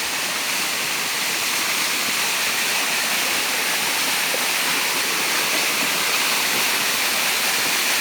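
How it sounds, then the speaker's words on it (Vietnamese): A very high waterfall with water rushing down: a loud, unbroken roar of falling water, broad and steady throughout, with no voices. "thác nước"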